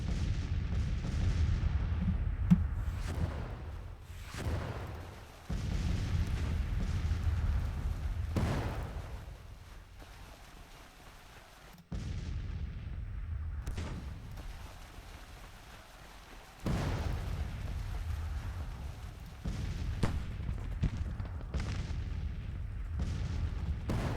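An artillery battery fires in a Civil War video game, repeated heavy booms at irregular intervals over a constant rumbling battle din, moderately loud and without talk.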